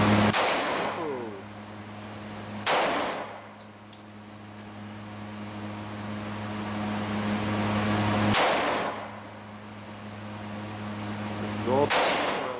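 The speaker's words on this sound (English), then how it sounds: "she's got the Glock 20C 10 millimeter. She's shooting for the top left." Four sharp, loud gunshots from a Glock 20C 10mm pistol crack at uneven intervals on an outdoor range, each followed by a brief echoing decay, with a steady low hum in the background between shots.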